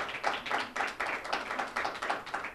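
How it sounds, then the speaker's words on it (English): An audience claps in a round of applause, steady and fairly close, with the individual claps carried in a quick, pulsing rhythm and no voices over it. "I think they deserve a round of applause"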